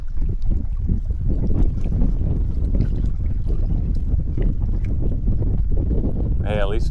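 Wind gusts over open water on a fishing outing along Florida's Space Coast, a constant close buffeting rumble across the microphone, with a brief voice near the end.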